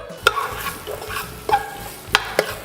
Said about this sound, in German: Zwiebeln und Knoblauch anbraten.